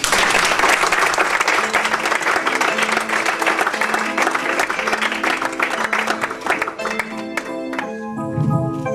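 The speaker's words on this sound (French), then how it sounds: "On l'applaudit!" An audience at a small music concert applauds loudly and densely for several seconds, the clapping gradually thinning as instruments begin to play and take over at the end.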